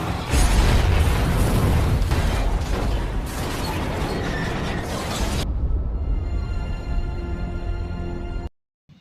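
A car explosion after a crash into an elevator in an action film: a loud, rumbling blast with crackling debris fills the first half, then settles into a lower, steady roar and hum before cutting off abruptly.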